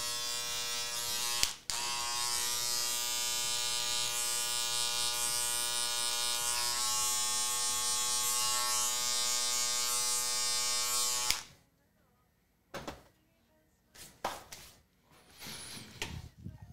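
Electric hair clippers fitted with a one guard buzz steadily and loudly while trimming and blending a beard. The tone holds for about eleven seconds, then cuts off, leaving a few faint scattered handling sounds.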